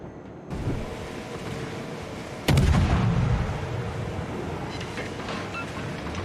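A single heavy boom from warship guns in World of Warships is followed by a rolling rumble that fades under continuous ambient sea and engine noise.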